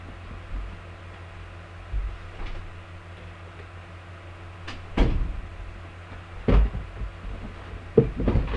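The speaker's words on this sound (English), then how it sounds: "I'm gonna go open up the door." A door is opened indoors: a few soft clunks and thumps come close by at irregular moments over a faint steady hum, with no talking.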